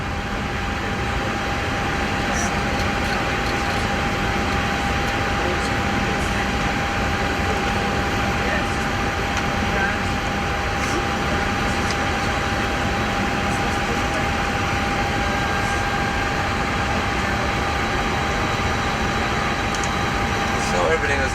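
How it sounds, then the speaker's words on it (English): Steady broadband hiss of air conditioning with a constant mid-pitched tone and faint intermittent clicks runs throughout as an FSLabs A320 airliner in the Prepar3D flight simulator goes through its self-test. "So all these noises are normal, it's just the airplane going through a self-test."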